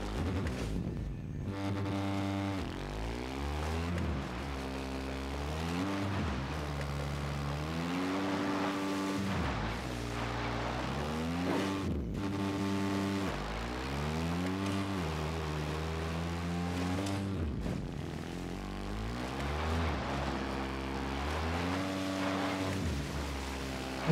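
A vehicle engine in the Ghost Recon beta game drones steadily, its pitch repeatedly rising and falling as it revs and shifts, a continuous whine and hum with no talk.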